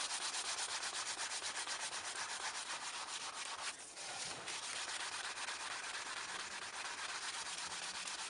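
Cloth buffing dried wax on a varnished painting, a steady close rubbing swish that runs continuously with a brief pause partway through, no voices.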